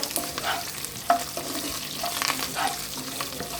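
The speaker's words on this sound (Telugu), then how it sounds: "వేరుశెనగ గుళ్ళు కొంచెం ఫ్రై అయ్యే వరకు ఫ్రై చేసుకోండి" Peanuts fry in a pan while a spoon stirs and scrapes them, scattered clicks and rattles over a soft sizzle, close and fairly quiet, no voices.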